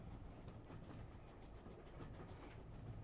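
Train noise from the video game Yurukill: a steady, low, continuous rumble of rail cars with faint rhythmic clatter, quiet and unbroken with no voices.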